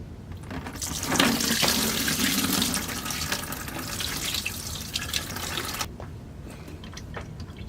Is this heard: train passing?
no